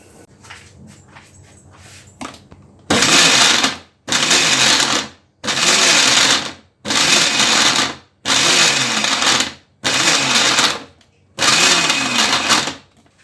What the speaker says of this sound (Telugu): ఇందులో మనము ఇలా పెద్దగా కట్ చేసి పెట్టుకున్న మామిడికాయ ముక్కలు వేసుకొని మిక్సీ పట్టుకోవాలి